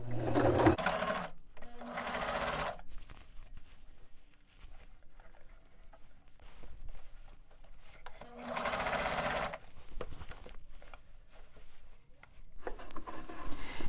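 A sewing machine stitches the hem of a long-sleeve shirt being turned sleeveless, running in three bursts of steady whirring with quiet pauses between, close and alone.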